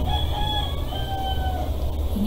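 Chickens at a home backyard cluck around a rooster crowing, its drawn-out calls sounding at moderate distance over a steady low hum, with more crowing cutting in near the end.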